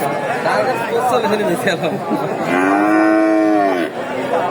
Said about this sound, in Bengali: অনেক বড় সড়ো একটি গরু